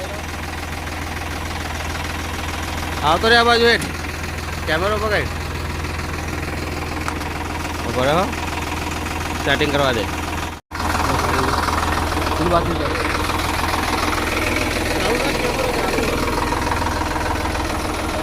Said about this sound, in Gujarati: આજે ટ્રેક્ટર લઈને જાઉં લાવો ટ્રેક્ટર ચલાવી દો